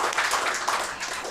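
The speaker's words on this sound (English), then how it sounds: "Can we please clap for our presenters?" An indoor forum audience applauds its presenters in a brief, dense burst of many hands clapping at steady volume.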